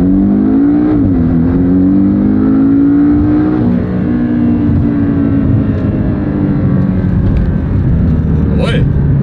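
A rear-wheel-drive car in Sport Plus mode accelerates at full throttle from a standstill, its engine note climbing steadily and loud from inside the cabin, with a brief gearshift dip early on and road roar underneath.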